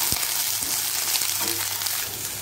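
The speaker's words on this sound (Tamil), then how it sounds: "வெங்காயத்தையும் அதோட நல்லா வதக்கிக்கலாம்." Okra and about eight whole small onions, cut small, sautéing together in a pan, giving a steady close sizzle and crackle with faint stirring scrapes throughout.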